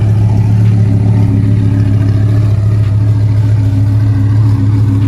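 A loud, steady engine rumble from an Audi R8 V10 holds at idle throughout, a deep constant drone with no revving, recorded close.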